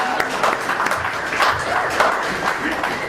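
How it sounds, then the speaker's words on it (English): Audience applause for Mike at an emotional sobriety workshop: a steady, dense wash of clapping from a room full of people that holds at an even level for about three seconds. "it's another round of applause for Mike"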